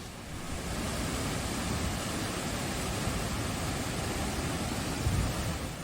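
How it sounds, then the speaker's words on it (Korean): Sambuyeon waterfall in Cheorwon, a 20 m cascade dropping from a cliff, gives a loud, steady roar of falling water that fills the whole scene without a break. "이곳이 삼부연 폭포인데요"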